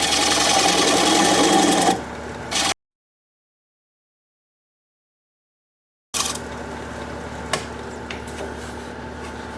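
A wood lathe turns the tenon of a bowl with a loud, steady mechanical whir; the sound cuts out entirely for a few seconds, then resumes with a scraping cut and occasional clicks.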